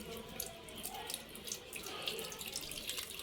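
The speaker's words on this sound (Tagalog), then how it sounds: "May tulo na po yung gripo, kaya magpatulo tayo." Water running from a dripping tap while bananas are washed, a faint continuous splashing hiss with small irregular drips and spatters.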